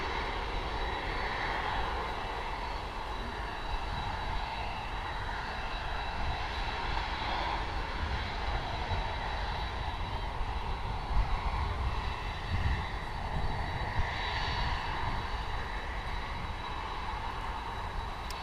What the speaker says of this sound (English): Next arrival, yes, American Airlines with the Astrojet retro livery, coming back actually from Kingston in Jamaica.